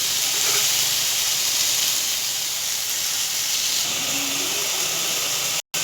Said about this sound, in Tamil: தக்காளி வெங்காயம் நல்லா வதங்கிருச்சு.